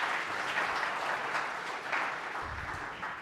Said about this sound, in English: So if you would just give them a round of applause,